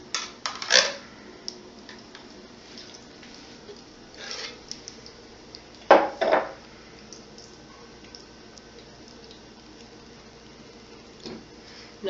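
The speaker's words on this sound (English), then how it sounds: "So I'll start by adding the no bean chili." No-bean chili spooned onto a pizza gives a few soft, wet squelches and plops, spaced seconds apart, over a quiet room.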